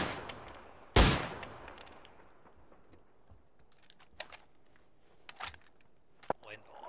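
In the PUBG video game, one loud close gunshot rings out with a long fading tail, followed by several sharper distant shots scattered over the following seconds.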